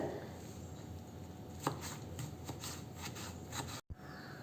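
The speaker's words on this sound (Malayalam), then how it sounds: "ആദ്യം ഇതിനൊന്ന് നീളനെ മുറിച്ചെടുത്തതിന് ശേഷം കുറച്ചായിട്ട് എടുത്തിട്ട് ചെറുതായിട്ട് മുറിച്ചെടുക്കുകയാണ് ചെയ്യുന്നത്." Cucumber being cut into small pieces with a knife on a board, a quiet run of rhythmic chopping taps over a faint background hiss, close and without speech.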